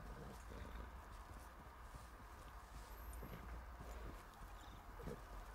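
Horse hooves clopping at a steady trot along a beach in Red Dead Redemption 2, over constant low rumbling background noise, moderately loud and continuous throughout.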